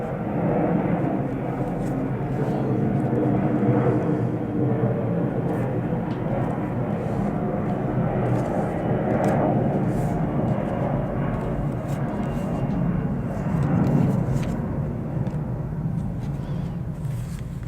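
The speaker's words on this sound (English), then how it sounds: "Just waiting for that plane to go over." An airplane passes overhead as a sustained, broad engine roar that stays loud and steady across the whole stretch, rising slightly toward the end.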